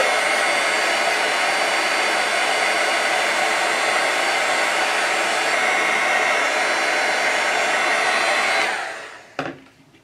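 A heat tool blows a loud, steady whirring hiss for about nine seconds while heat-setting embossing powder on a card, then switches off with a click.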